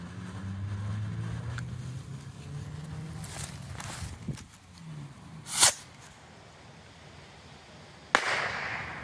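Two-year-old non-whistling firework rocket outdoors, faint rumble and shuffling before a sharp launch hiss, then a solid distant pop and a second crack later, with quiet ambience between.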